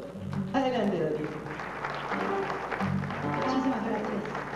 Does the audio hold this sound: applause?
yes